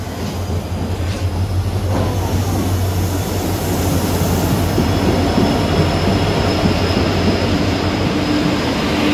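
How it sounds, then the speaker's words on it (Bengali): A Vande Bharat train pulls away, its steady loud rumble of rolling wheels and carriages filling the whole stretch, with a faint high wheel squeal near the end. "বন্দে ভারতের ট্রেনটা ছাড়লো"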